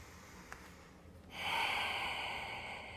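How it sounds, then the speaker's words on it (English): One person does audible ocean-sound yoga breathing, a soft, close breath. A faint intake comes first, then a longer, rushing exhale with a throaty hiss that swells and slowly fades. "we breathe audibly in yoga is so we can hear that ocean sound of the breath"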